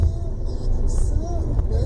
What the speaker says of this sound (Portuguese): Olha as canas subindo, caminhão de cana.